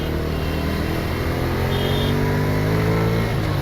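Steady, close engine drone from a Bajaj Freedom 125 CNG motorcycle being ridden, a continuous even hum with harmonics that shift slightly as gears change, and no talking.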